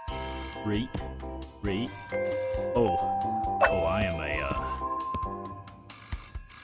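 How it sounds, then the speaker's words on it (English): A payphone in the video game Christmas Shopping Simulator rings with a repeated electronic bell tone over busy game sounds, while a person talks briefly nearby. "Alright, answer the payphone."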